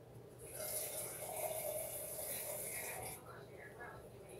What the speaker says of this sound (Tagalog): Lagyan natin ulit ng konting tubig.